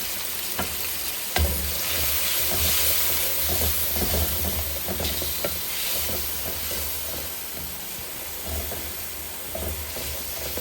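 Ground spice paste frying with turmeric, chilli and coriander powder, a continuous close hissing sizzle with repeated spoon scrapes and one sharp knock near the start.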